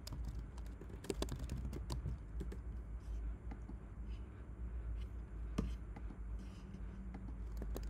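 A computer keyboard clicks as a chat message is typed. The keystrokes are faint and close, arriving in irregular bursts over a low background hum.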